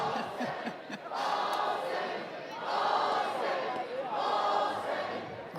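Softball stadium crowd at a South Carolina vs Texas A&M college game, roaring and chanting in steady loud waves that swell and grow louder.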